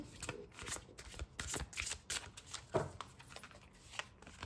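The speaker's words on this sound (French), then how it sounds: "Et là, on va sortir deux cartes." Oracle cards being shuffled by hand in a quiet room, a steady run of soft papery riffles and flicks lasting several seconds, close and fairly faint.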